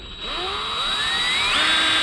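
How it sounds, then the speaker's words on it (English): A power drill spins an engine valve chucked in its jaws, a close high-pitched whine that rises in pitch as the motor spins up and then holds steady. "run the drill"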